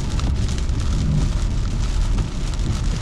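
Heavy rain pours down steadily on a car parked for stealth camping, a loud dense hiss with drops drumming on the surface and no pauses or voices.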